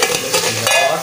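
Beef frying in ghee in a karahi gives a steady, close sizzle with light stirring scrapes, all continuous through the brief moment and with no voices.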